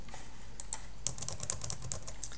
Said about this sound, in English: if I was to type something on my screen